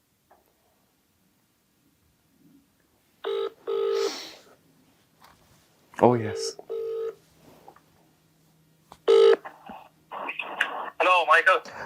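Telephone dialing and ringing tones sound for a phone-a-friend call during a quiz-game podcast episode, coming in short, separated electronic bursts over a quiet line, with people speaking briefly between them.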